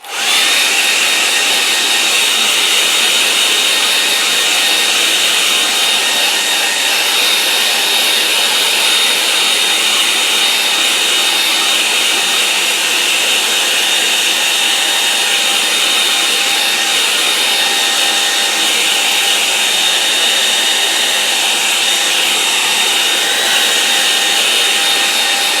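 A hair dryer blowing steadily to dry something off, a loud, continuous close whoosh with no break throughout.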